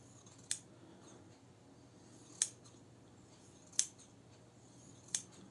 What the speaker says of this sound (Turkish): şimdi bu makasla ıslak peçeteyi kesiyorum arkadaşlar